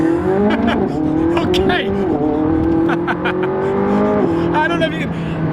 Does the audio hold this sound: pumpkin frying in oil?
no